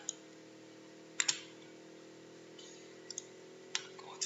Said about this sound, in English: again right click on it